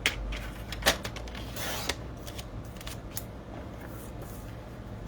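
Cardstock being cut for a card base: close, crisp snips and scraping trimmer or scissor sounds, with a few sharper clicks at the start and lighter cutting noises trailing on.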